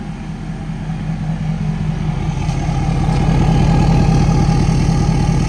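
A Ford 6.7 Powerstroke diesel truck engine with an oil-burning fault idles close by, a loud, steady low rumble with a fast even throb and no talk.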